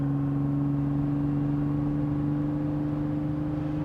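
A 1986 Pontiac Fiero with a small V6 pulling a roughly 2,500-pound car, heard from inside as a steady engine drone with a strong hum, running through the gears.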